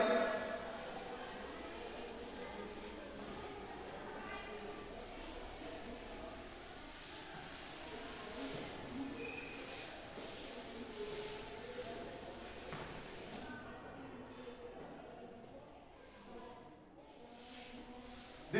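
Writing is rubbed off a classroom board in an arithmetic lesson, giving a soft, continuous scrubbing hiss that stays faint and close before it thins out near the end.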